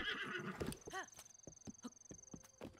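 A horse in the Breath of the Wild video game gives a short whinny, followed by several spaced hoofbeats and in-game sounds, moderately close with no talk over it.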